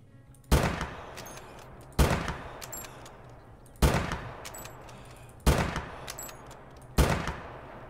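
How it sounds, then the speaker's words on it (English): Five loud rifle shots from a 6.5 Mårtensson rifle at an outdoor range, spaced roughly evenly about one and a half seconds apart, each a sharp crack followed by a short echoing decay, no speech. "Get up here and then take a shot at them."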